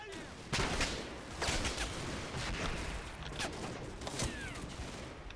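Gunfire in the Combat Mission WWII tactics game, including a Bren team firing: repeated sharp rifle and machine-gun cracks in irregular bursts over a faint battlefield rumble, fairly distant and quiet overall.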